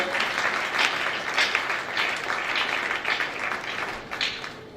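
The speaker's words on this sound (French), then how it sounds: "Des ovations pour le raccompagner, s'il vous plaît." An audience at a national youth conference and church convention in Benin applauds with a sustained ovation of dense, steady clapping that fills the hall, rising and falling in waves before easing slightly at the end.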